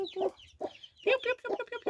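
A free-range hen with newly hatched chicks gives a series of close, fairly loud clucks and low throaty calls in short bursts separated by brief gaps.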